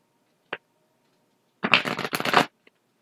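A deck of tarot cards is shuffled by hand: one quick flick, then a dense riffling burst of about a second, ending with a faint tap, close and clear in a quiet room.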